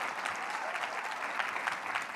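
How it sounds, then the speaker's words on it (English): Dense, steady applause from a keynote conference audience, continuous clapping filling the whole moment with no voices standing out. "Give yourselves a round of applause."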